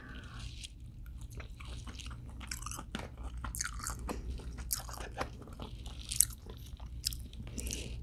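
Close, steady chewing and crunchy bites of lobster, octopus and mussels with homemade spicy sauce, soft wet mouth sounds continuing throughout without speech.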